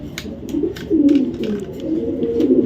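Checker racing pigeons coo continuously up close, soft rolling throaty calls overlapping in a steady murmur with faint rustling.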